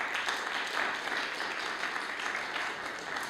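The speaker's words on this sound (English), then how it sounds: "Let's give him a round of applause." Audience applause for Dr. Wendland after his talk, a steady dense clapping from a sizable crowd that holds evenly throughout without pause.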